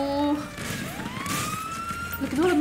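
A police siren wails in the video game GTA V, a rising and falling electronic tone amid gunfire-like clatter, with a voice speaking over it.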